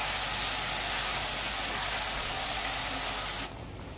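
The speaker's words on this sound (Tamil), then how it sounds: "லைட்டாக தண்ணி தெளித்து நல்லா மிக்ஸ் பண்ணி வதக்குவோம்." A loud continuous hiss like potatoes sizzling in a hot pan after a sprinkle of water, steady for several seconds before suddenly dropping to a quieter background.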